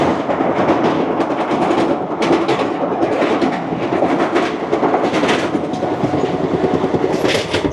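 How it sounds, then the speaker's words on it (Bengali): A train rolls at speed through Kumedpur Junction in the morning, a continuous loud rumble with rattling, clattering wheels and no voices. "আমাদের ট্রেন পার করছে কুমেদপুর জংশন"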